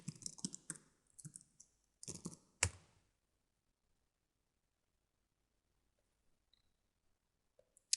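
Computer keyboard typing, quiet close clusters of sharp key clicks over about three seconds, then near silence with a few faint stray taps and a final click.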